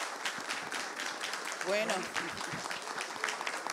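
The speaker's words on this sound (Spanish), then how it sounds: "de ese aplauso para despedir y agradecer esta noche al autor" Audience applause at an evening event honouring an author, steady dense clapping throughout with a brief spoken word over it.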